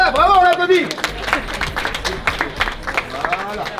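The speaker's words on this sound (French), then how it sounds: "Voilà, bravo, on l'applaudit." Scattered clapping breaks out at a birthday celebration in a restaurant, a short ragged burst of applause mixed with cheerful voices.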